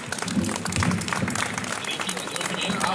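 Outdoor crowd applause in a town square at the presentation of the Cento carnival dates, a short burst of clapping with voices underneath.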